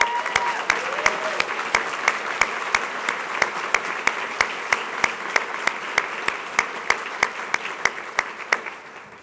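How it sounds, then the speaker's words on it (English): A crowd applauding steadily, dense clapping with a few sharp louder claps standing out throughout, no clear cheering. "giving all of these finalists a rousing, rowdy cheer of appreciation"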